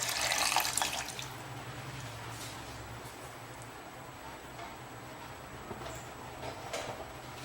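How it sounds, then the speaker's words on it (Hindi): A glass of water is poured into chicken pasanda in a cooking pot: a brief splashing gush at the start, then soft bubbling and faint liquid trickles, with a low hum underneath and no talking. "1 गिलास पानी डाल रहा हूँ।"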